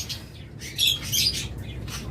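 Red-eye pet birds for sale in a bird shop give off several high chirps and squawks, with the loudest bursts in the middle. A steady low hum from the shop runs beneath them.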